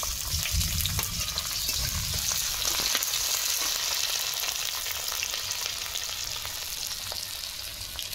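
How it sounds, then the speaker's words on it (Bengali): Sliced onions sizzle in mustard oil in a wok, a steady, dense frying hiss with soft scrapes and crackles that holds evenly throughout, no voices present. "কড়াতে সরষের তেল দিয়ে দিচ্ছি। পেঁয়াজ কেটে দিয়ে দিচ্ছি।"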